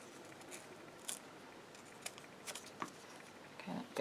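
Scissors trimming the edge of a sheet of decorative paper, several quiet, close snips spaced irregularly with short pauses between cuts.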